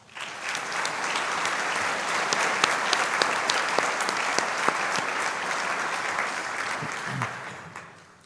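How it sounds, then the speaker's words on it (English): An audience at a winter university commencement ceremony claps steadily, a broad, loud round of applause with sharp individual claps popping out. It holds evenly for several seconds before tapering off at the end. "please give him a big round of applause"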